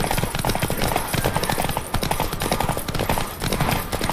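Rapid hoofbeats pound steadily as a horse gallops in The Witcher 3: Wild Hunt video game, a dense drumming rhythm with a faint voice underneath.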